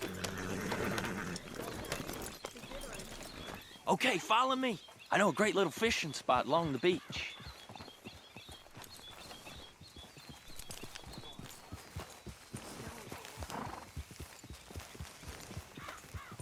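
Rhythmic hoofbeats of a galloping horse in Red Dead Redemption 2 run under a man's speech, with a couple of loud neighs in the middle and continuous clip-clop after.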